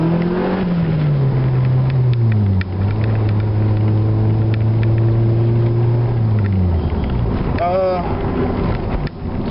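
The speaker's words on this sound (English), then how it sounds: "I like the sound of the exhaust." Exhaust note of a car with a Honda D15B engine while driving, a loud, steady engine drone that rises and falls with the throttle and shifts gear partway, with wind buffeting throughout.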